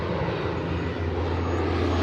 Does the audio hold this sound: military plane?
yes